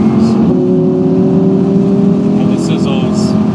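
An Audi R8 engine holds a loud, steady throaty drone close by, with a few short crackles and pops from the exhaust breaking through.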